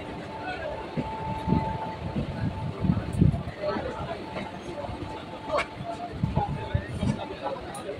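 A train rolls slowly into Howrah station from the Santragachi side. A steady low rumble with soft clanks and rail rattle continues throughout, under a faint murmur of voices on the platform.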